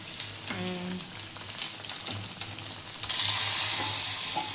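Cooked chicken fries hard in a hot pan, a dense close sizzle that swells louder partway through, with occasional clinks and a brief background tone.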